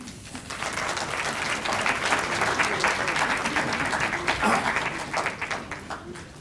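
A room full of people breaks into steady, sustained applause to welcome Dr. Kay Hart and Dr. Fred Tanzer, a dense wash of clapping that holds evenly for several seconds with no speech over it.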